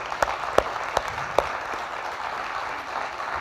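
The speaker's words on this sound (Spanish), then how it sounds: "así que le pedimos un aplauso para él también." An audience applauds at a university event, a short burst of scattered claps that starts strong and quickly thins out into a few sparse claps.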